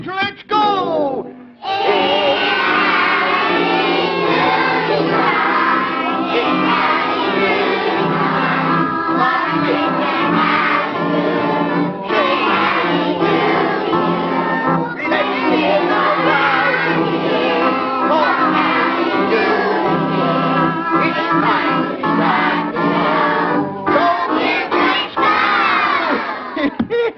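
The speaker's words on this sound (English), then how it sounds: "please sing good and loud for good old Howdy Doody and Buffalo Bob" A crowd of children sings loudly and enthusiastically on a 1952 Howdy Doody television broadcast, a sustained, shouting chorus filling the whole stretch after a brief pause near the start.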